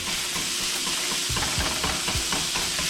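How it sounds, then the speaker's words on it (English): Chicken and broccoli are stir-fried in a pan, with a steady sizzle under scraping and tossing strokes of a spatula that grow busier partway through. "It's like a stir fry."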